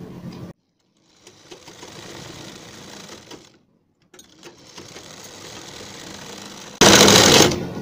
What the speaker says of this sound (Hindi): इस तरह इस पर सिलाई लगा देंगे इस प्रकार